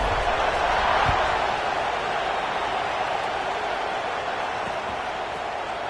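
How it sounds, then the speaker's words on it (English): A college football stadium crowd buzzes after a score, a steady, loud, broadband roar of many voices that holds through the whole stretch with no single voice standing out. "this crowd is buzzing after that last score"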